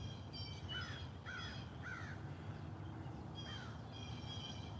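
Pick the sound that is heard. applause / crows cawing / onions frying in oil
crows cawing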